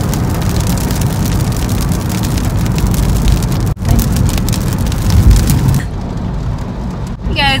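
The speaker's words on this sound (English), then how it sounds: "it's raining, as you can see" Steady rain falls in Izmir, a dense hiss filling the scene with a low rumble of passing traffic beneath, briefly cut off midway and softening near the end.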